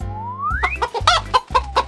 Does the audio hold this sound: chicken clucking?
yes